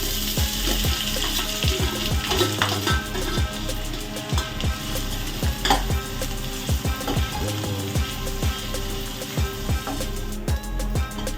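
Onion frying in oil for a Konkan-style prawn masala, a continuous close sizzle with a rapid, rhythmic run of scraping stirs clicking against the pan throughout.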